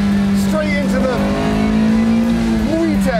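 Toyota AE86 and VW GTI driving through a canyon, a loud sustained engine drone with pitch swoops as the cars shift and rev, under a voice talking over it.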